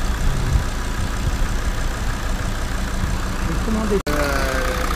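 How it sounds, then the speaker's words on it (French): A car engine idles steadily with a low, even rumble after a MECACLEAN decarbonizing station starts up, loud and close, with a brief sharp dropout near the end and someone speaking over it. "la machine démarre"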